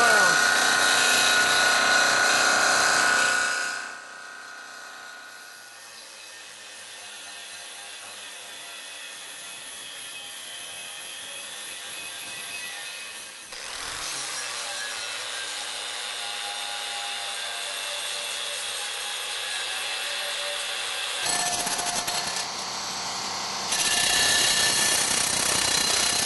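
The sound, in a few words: grinder grinding metal off a stainless steel propeller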